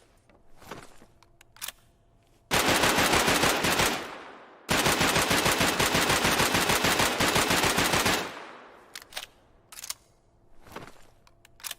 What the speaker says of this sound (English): the way the guns sound in this game is amazing